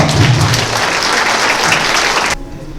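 Wedding guests applaud at a convention-hall wedding ceremony, a dense burst of many hands clapping close and loud for over two seconds before cutting off abruptly into quieter room tone.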